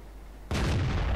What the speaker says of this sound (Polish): No niestety, to był piękny strzał tuż w te pokrywy silnika.